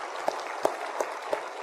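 A church congregation applauding during a Sunday service, four evenly spaced sharp claps over a soft, steady spread of clapping at moderate distance.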